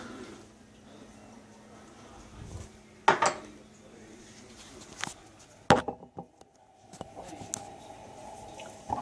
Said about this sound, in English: I'm just going to mix this in here. All the dry mix together, the flaxseed, the oats, and the flour.